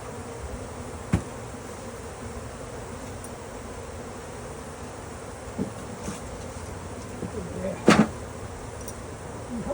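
Honeybees swarm around their hives in a steady, close buzzing drone that carries on throughout, with a few louder passes near the ear and brief handling knocks.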